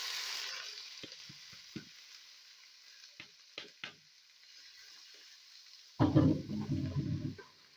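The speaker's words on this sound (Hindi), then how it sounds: "इसमें अब हम कटी हुई प्याज डाल देंगे।" Chopped onions hit hot oil in a kadai with a sudden loud sizzle and crackle that keeps going, after a few soft clinks and taps of utensils over a quiet kitchen hiss.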